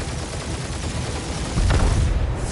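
Ship guns blasting in Guardians of the Galaxy, a dense, continuous roar of rapid fire with a heavier low-end surge in the second half, loud and close, no voices.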